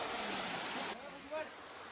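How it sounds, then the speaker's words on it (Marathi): A small waterfall on Tansa road gives a steady broadband rush of falling water, louder at first and then softer, with no voices. "आम्हाला तानसा रोडला भेटला एक धबधबा"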